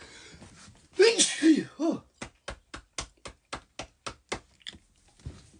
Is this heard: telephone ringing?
no